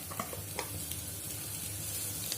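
Sliced onion sautés in hot oil in a pan, giving a close, steady sizzling hiss with a few soft stirring clicks.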